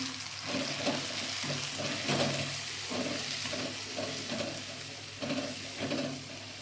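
A steady sizzle from a pan of sundakkai thokku with chili powder added, rhythmic stirring scrapes every second or so, close and moderately quiet, no voices.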